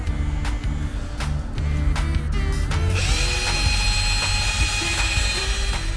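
A cordless drill driver whirs loudly and close at work on camper van cabinets, first in several short bursts with pauses as screws are driven, then one sustained, higher-pitched run of drilling.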